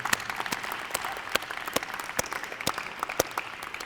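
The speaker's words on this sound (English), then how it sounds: "Let's give them a round of applause." An audience claps steadily at a university senior breakfast after student government officers are announced, a dense patter of many hands with a few sharper, louder claps standing out, no voices over it.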